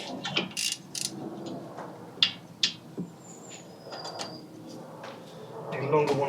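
A ratchet with a 13mm socket works at a rear brake bolt on a MK2 Golf, giving irregular metallic clicks and clunks close by, with a few louder knocks mixed in.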